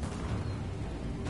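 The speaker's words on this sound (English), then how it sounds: "Watch out for that grenade." A grenade blast in a video game sounds as a short, muffled boom with a rumbling low-end roar that fills the whole moment, heard alone without talk.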